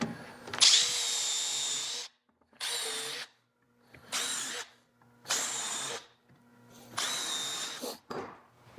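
Power drill driving screws into a miter station cabinet in a workshop, five separate close bursts of whirring with short pauses between them and no talking.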